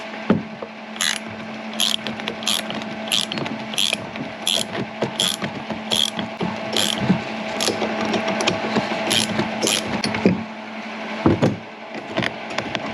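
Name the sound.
socket set ratchet turning to remove a Cadillac CTS shock nut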